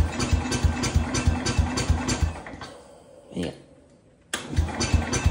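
A Cub Cadet 105 snowthrower engine chugs in a cold, rough idle with a rapid pulsing beat, briefly dropping and sputtering before catching again, as a voice says a single word.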